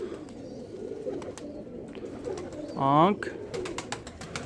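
A pigeon coos softly near at hand, a low murmur running under a man's steady speech, with one louder rising call standing out briefly.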